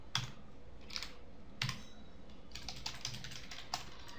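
Someone types C code on a computer keyboard, quiet clustered key clicks and taps in irregular bursts, close and soft, with no voices.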